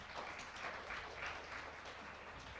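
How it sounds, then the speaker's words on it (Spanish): Steady applause from a crowd at a Bible seminar, a continuous wash of clapping with no pauses. "vamos a dar fuertes aplausos al coro Esperanza"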